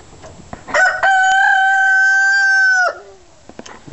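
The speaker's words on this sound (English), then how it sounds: "Yes, that was a rooster." A rooster lets out one loud, close, drawn-out crow that holds for about two seconds and then breaks off, with faint rustling before and after.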